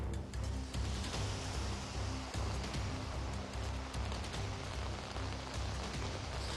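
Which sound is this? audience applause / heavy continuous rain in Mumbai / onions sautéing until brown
heavy continuous rain in Mumbai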